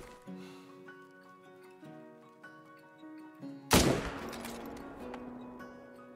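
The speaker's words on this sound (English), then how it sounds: "Did I shoot him again?" A rifle fires once in the hunting game Call of the Wild, set in the Medved Taiga: a single sharp, loud crack with a short rolling tail, following quieter clicks and thuds.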